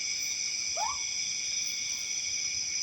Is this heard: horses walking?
no